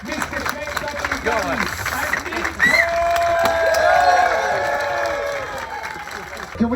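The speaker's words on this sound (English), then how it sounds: "Can you start your cheering? Can you start your clapping? Can you start your roaring?" People cheering, clapping and whooping, a close, lively crowd with bursts of shouting and applause building to a sustained roar.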